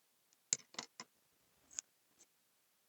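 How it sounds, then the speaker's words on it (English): Scissors snip through paper while a pocket tag booklet is being made, giving a few short crisp cuts in a quick cluster, then one more snip and a faint tick in otherwise quiet surroundings. "I'm actually going to cut this off."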